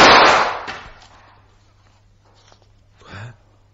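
A single sharp blank gunshot fired at close range bursts out at the start and fades quickly, followed by near silence, a steady low hum and a brief faint voice near the end.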